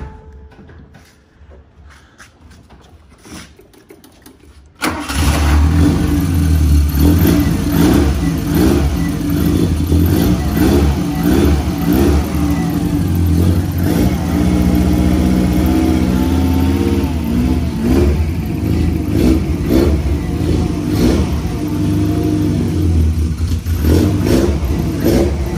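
A Volkswagen Passat engine starts after a few quiet seconds, then runs loud and close, rising and falling through repeated throttle revs over a rough idle for the rest of the stretch.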